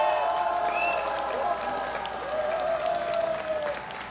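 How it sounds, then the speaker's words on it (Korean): An audience at a rally stage event applauds in a sustained wash of clapping, with faint tonal sounds and background murmur running beneath, fairly loud and even throughout. "박수 한번 더 보내주세요"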